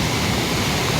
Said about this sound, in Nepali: यसरी बाढी आएको छ खोला बढेर